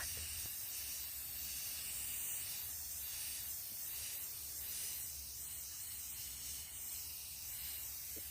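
A quiet, continuous hiss of charcoal spray paint from a can applied as a base coat, steady and close, with no talking.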